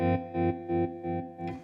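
An electric guitar chord through a Chase Bliss Audio Gravitas analog tremolo pedal set to a square wave, chopped on and off in abrupt, even pulses, about five sharp on-off beats in quick succession.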